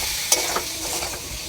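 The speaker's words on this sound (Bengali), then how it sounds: "দিয়ে মশলাটাকে ভালো করে ভেজে নেব" Masala of ginger-cumin paste, turmeric and chili powder frying in a pan for a okra and ridge gourd curry: a steady close sizzle with a couple of brief stirring clinks, no talk.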